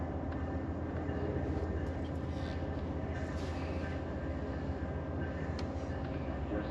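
Inside an Amtrak passenger train on a long-distance route, a constant, loud rumble of wheels on rails fills the cabin, steady and unbroken, with no speech.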